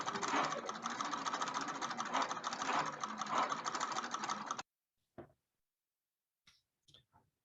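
An early motion picture camera mechanism runs with a steady, dense mechanical whirring clatter for about four and a half seconds, then stops abruptly, followed by a few isolated clicks and knocks.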